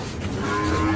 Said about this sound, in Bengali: বিশাল বড় গরু আসছে।